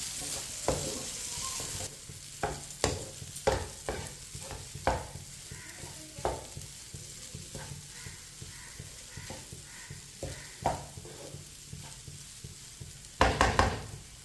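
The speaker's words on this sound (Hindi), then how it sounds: "चाशनी में सूजी डाल के 4-5 मिनट के लिए इसी तरह चम्मच चलाते हुए पकाना है।" A spoon stirring semolina through hot sugar syrup for suji halwa: quiet, irregular scraping and tapping strokes over a faint bubbling hiss, ending in a louder brief clatter.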